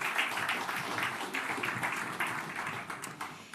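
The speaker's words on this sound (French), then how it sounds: "On vous applaudit chaleureusement." Applause from an audience at a Medef tech evening, a dense continuous patter of many hands clapping steadily throughout, fairly loud and close, with no pauses.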